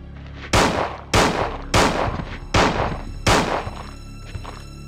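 Five loud single gunshots in Resident Evil 2 on PS1, evenly spaced about a second apart, each sharp blast trailing a short echo.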